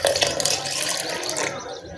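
Water splashes and pours steadily into a blender jar while mint lassi is being made, a close, bright rushing sound that cuts off sharply near the end.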